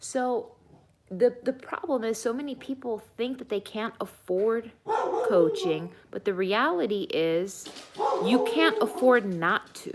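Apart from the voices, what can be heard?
dog barking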